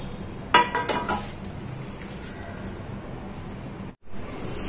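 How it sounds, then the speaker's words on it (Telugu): A metal dosa griddle pan clanks down onto a kitchen stove with a few sharp clinks near the start, followed by quieter rattling and a steady low background hum. "స్టవ్ మీద పెనం పెట్టుకుని"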